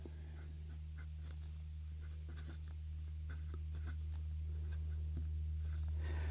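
A Leonardo Momento Zero Grande 2.0 fountain pen with a 1.5 mm stub nib and Kon-Peki Blue ink writes small in a small notebook, giving soft, faint scratches in short strokes over a steady low room hum.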